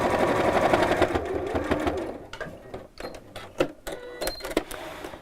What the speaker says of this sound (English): it's just purely lots of layers of fabric being sewn through